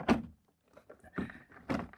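A VW T6 interior door card is lifted and popped free of the top door seal, giving a few short, quiet plastic thunks and clicks with brief gaps between them.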